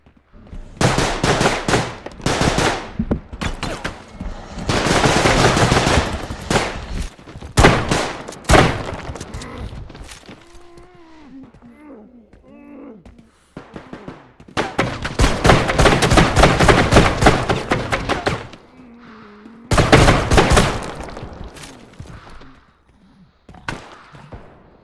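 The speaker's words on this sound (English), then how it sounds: "Welcome to the gun game. For every one kill, the weapon changes." Gunfire from a first-person shooter in gun game mode: rapid automatic bursts and single shots, loud and dense, with short lulls between exchanges.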